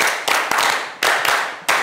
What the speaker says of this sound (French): Alors tout le monde en applaudit pour ça.